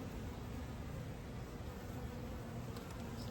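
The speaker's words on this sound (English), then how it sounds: "Bees don't like when you blow on them" Honeybees buzz in a dense, continuous drone during an open hive inspection, a close and steady swarm hum with no talking.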